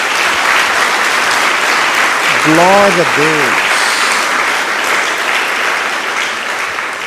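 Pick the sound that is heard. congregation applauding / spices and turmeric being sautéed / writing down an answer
congregation applauding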